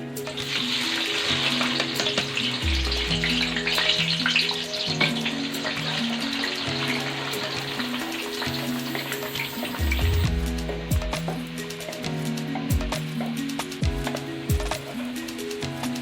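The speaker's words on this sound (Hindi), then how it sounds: "हमने एक कढ़ाई ली है, उसमें अपनी ज़रूरत के मुताबिक ऑयल डाला है। अब इसमें प्याज डालेंगे।" Onions frying in oil in a kadai for a white chickpea pulao, a steady broadband sizzle running continuously throughout, close and fairly loud, with no talking.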